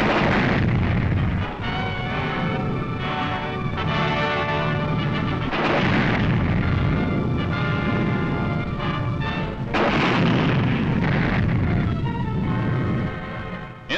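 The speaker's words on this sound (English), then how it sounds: "A tank barrage supports the move." Tank barrage during the WWII Rhine crossing near Emmerich, heard as repeated heavy booms over a dense, continuous rumble of gunfire, loud and sustained throughout.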